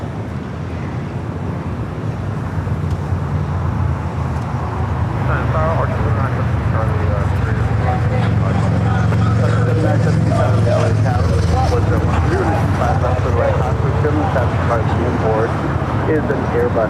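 Airbus jet engines roar steadily at LAX, a loud broadband rumble that builds slightly and holds, with radio chatter and voices faintly underneath.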